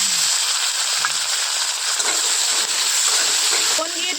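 Beans frying in hot oil in a wok, a steady close sizzle and crackle throughout with faint voices underneath.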